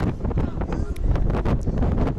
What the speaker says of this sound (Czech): Já se fakt hrozně omlouvám za ten vichr.